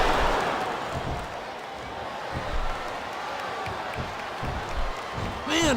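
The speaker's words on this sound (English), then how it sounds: "I think these superstars are getting some feedback from the crowd, JR." Crowd noise in the WWE 2K26 wrestling video game on PS2, a broad arena roar with scattered cheers and impacts underneath, while commentators talk over it; a whistling sweep rises near the end.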